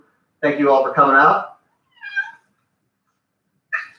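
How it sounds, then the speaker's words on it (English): A female house cat in a home bar setting gives two short meows a couple of seconds apart, fairly close, just after a person finishes speaking. "that's my cat"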